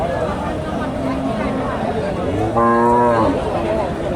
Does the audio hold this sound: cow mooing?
yes